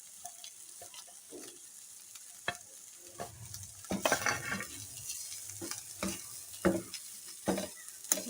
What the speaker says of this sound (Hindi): अब हम इसमें डालेंगे ये जो कीमा जो था, कीमा डाल के इसे अच्छी तरह मिक्स करेंगे।